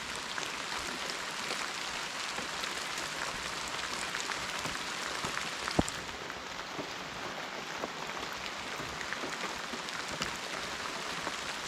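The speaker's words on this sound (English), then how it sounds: "even in the rain." Steady rain pours over a truck campsite, a dense even hiss with scattered drops striking nearby surfaces, constant and alone with no voices.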